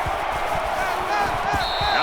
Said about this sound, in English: this crowd is going absolutely crazy